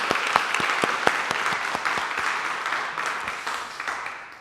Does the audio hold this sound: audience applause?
yes